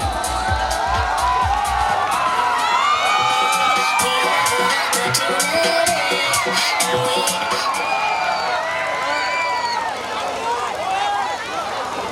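Crowd at a Tharu Maghi (Khichdi) festival in Umri, Kapilvastu, with dense, continuous cheering, whoops and shouts filling the whole stretch, loud and close, with a cheerful melodic voice riding on top.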